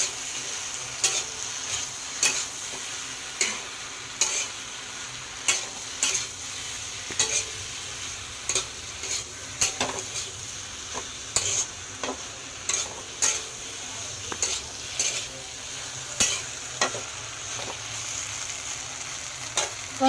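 A vegetarian potato and okra curry with cumin and ginger sizzles in a pan while a spatula stirs it in steady, repeated scraping strokes. The frying hiss runs underneath throughout, with no talking.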